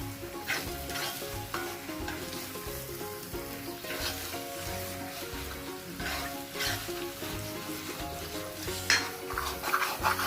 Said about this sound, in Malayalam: നന്നായിട്ടൊന്ന് മിക്സാക്കി കൊടുക്കാം നമുക്ക്.